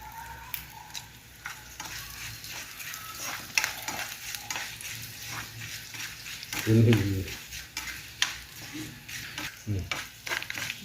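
Tempering spices and dried red chillies sizzle and crackle in hot oil while a utensil stirs and scrapes the pan, with a brief louder burst of frying midway.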